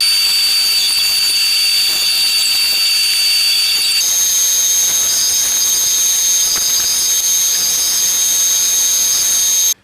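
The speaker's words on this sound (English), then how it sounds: "I'm going to take it to the bandsaw, and I'm going to trim these corners off." A bandsaw trims the corners off a wooden disc, a loud continuous high whine and hiss that shifts pitch slightly midway as the blade cuts, then stops abruptly at the end with no talk.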